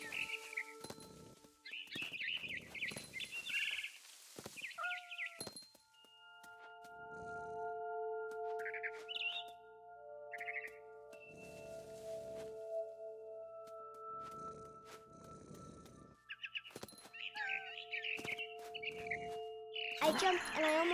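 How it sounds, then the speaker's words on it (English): In the game What Remains of Edith Finch, a barn swallow returning to her nest outside a window gives bright, scattered chirps and short tweets. They come in bursts among quieter game tones and faint background sounds. "Then I heard chirping outside my window. It was a barn swallow going back to her nest."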